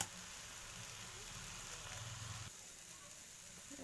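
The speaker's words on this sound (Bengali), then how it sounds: "সামান্য সময় আমি একটু ফ্রাই করে নেব।" Lentils and vegetables frying for khichuri with ghee, a faint, steady sizzle and soft crackle from the pan that drops slightly quieter partway through, with no one speaking.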